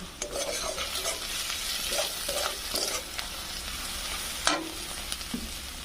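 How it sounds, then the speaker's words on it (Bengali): Masala with chili and turmeric powder sautéing in a pan for pomfret curry, a steady close sizzle broken by repeated scraping stirs and a few sharper utensil knocks. "এক চামচ লঙ্কার গুঁড়ো ও হাফ চামচ হলুদ গুঁড়ো দিয়ে ভালোভাবে কষিয়ে নেব"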